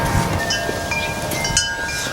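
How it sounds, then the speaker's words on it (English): Wind blows outdoors near a 2003 BMW R1150GS motorcycle under repair, buffeting the microphone with a continuous low rumble that has slight gusty swells. "it's really windy out, so hopefully you can hear me okay though"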